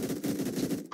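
An AK rifle in the Roblox game Phantom Forces fires a fast, loud automatic burst of evenly spaced shots that ends abruptly within a second.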